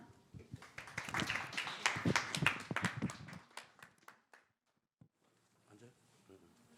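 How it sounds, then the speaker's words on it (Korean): Audience claps in welcome for a speaker at a tech conference on NFTs, a burst of clapping that fades out after a few seconds, leaving quiet room noise and a few faint sounds. "여러분 따뜻한 박수로 맞아주시기 바랍니다."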